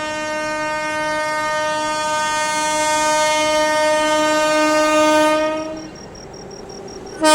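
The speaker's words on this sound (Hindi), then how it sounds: "टूंडला जंक्शन पे अपनी ब्रह्मपुत्र मेल को ओवरटेक करने आ रही है पूरी आनंद विहार पुरुषोत्तम एक्सप्रेस आती हुई" The Puri–Anand Vihar Purushottam Express arriving at Tundla Junction sounds one long, loud, steady horn blast that holds for about five seconds before fading, followed by quieter rail rumble.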